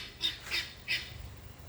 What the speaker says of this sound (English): Go away and squawk somewhere else.